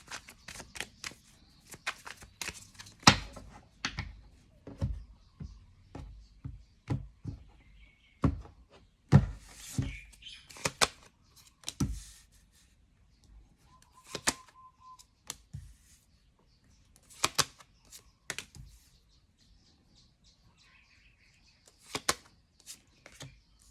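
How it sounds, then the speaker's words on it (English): Repeated soft riffling and tapping of a tarot deck being shuffled, in irregular bursts with brief pauses, close by and fairly quiet. "Just going to shuffle a couple times."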